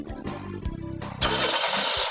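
A car engine cranks and catches, then runs steadily during a power steering flush, loud and close after a few uneven starter turns.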